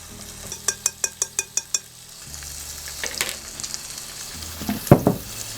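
Pancetta frying in a pan as its fat renders, a soft steady sizzle after a quick run of evenly spaced metallic taps, with a few louder stirring clatters near the end.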